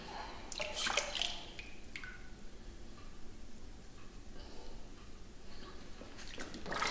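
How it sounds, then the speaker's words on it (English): A dog named Ike getting a bath: soft water drips, splashes and wet squishing close by, with a couple of louder sloshing bursts at the start and end, no speech. "Ike is having his bath"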